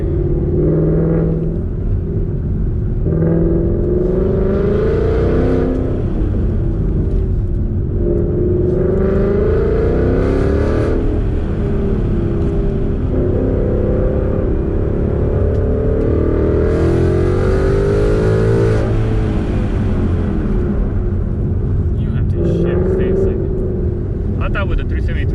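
A Ford Mustang engine revs up and down repeatedly through the gears on a racetrack, loud and close, with people talking over the roar.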